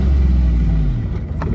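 A car engine revs up close with a loud low rumble that climbs and then falls away, and no one speaks.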